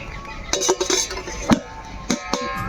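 A lid goes onto a cooking pot in which potatoes are boiling in water, with a few close clinks and clanks of metal, sharp knocks spread unevenly over a quiet kitchen background.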